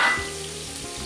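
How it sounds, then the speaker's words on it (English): Onions, garam masala and bay leaves fry in a pan with a close, steady sizzling hiss and no voices. "I'm going to add to that the onions and the garam masala, followed by the 2 bay leaves, and I'm going to fry that for a little while"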